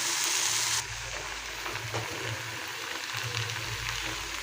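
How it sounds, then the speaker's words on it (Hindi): Masala spices for chowmein fry in a pan with a soft, steady sizzle and occasional stirring scrapes, close and fairly quiet, with no talking. "अब एक थोड़ा और भून लेते हैं मसाला"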